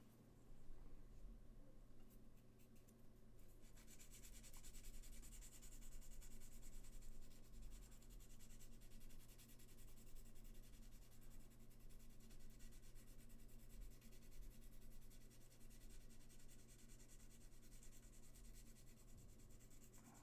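Fine-grit sanding stick rubbed over a plastic Aeldari Wraithlord miniature during conversion work, a faint, continuous scratchy rasp with a steady low hum beneath it.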